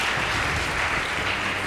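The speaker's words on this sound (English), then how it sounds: "Please give them a round of applause." A studio audience at a televised high school team competition gives a round of applause: a dense, even wash of clapping that stays at a constant loud level throughout.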